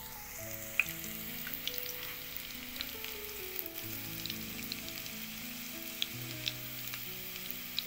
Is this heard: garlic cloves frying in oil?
yes